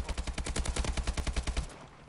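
Rapid automatic gunfire from a zombies shooter video game, a fast, steady string of about a dozen loud shots in quick succession that cuts off and fades near the end, with no talking.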